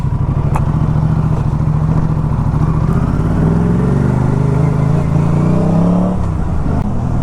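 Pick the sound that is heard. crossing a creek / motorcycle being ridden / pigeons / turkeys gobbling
motorcycle being ridden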